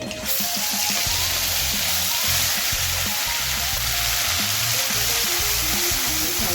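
A ground spice paste sizzles loudly in hot oil after a mustard and cumin seed tempering, a dense continuous hiss with a low bubbling undertone throughout.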